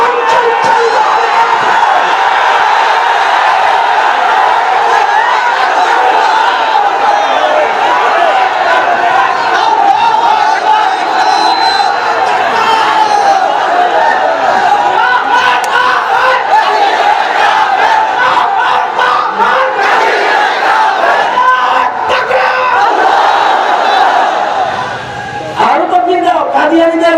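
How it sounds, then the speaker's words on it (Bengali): A large crowd at a religious rally raises a loud, sustained roar of the takbir chant, with massed voices shouting together almost continuously before easing off near the end. "সুতরাং দাঁড়ায় তাকবীর দাও, আর গোটা মঞ্চে উচ্চারিত হবে"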